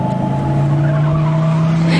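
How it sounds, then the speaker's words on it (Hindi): A car pulls up and stops on a lonely forest road, its engine humming with a steady low drone while tires squeal briefly as it brakes close by. "गाड़ी रेशमा के पास रुकती है।"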